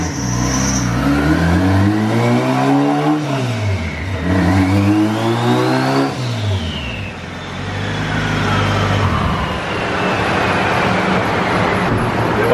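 A 350 horsepower Honda Civic sedan roars through a drag pass, its engine loud and close as it climbs repeatedly through the revs with sharp dips at each gear shift, then fades into a steadier road and wind rush.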